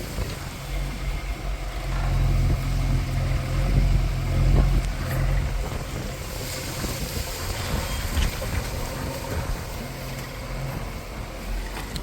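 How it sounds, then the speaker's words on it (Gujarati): A tractor engine runs steadily at a farm while manure is loaded into it, a low continuous rumble with some clatter, fairly close and alone without talk. "અહીંયા બીજું ટ્રેક્ટર ભરાય છે અને આ ટ્રેક્ટર પણ અત્યારે ભરાય ને પછી ઠલવા જાય"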